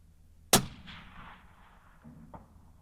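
One sharp, loud rifle shot rings out with a booming decaying tail, followed by faint mechanical clicks of a bolt being worked, alone and nearby.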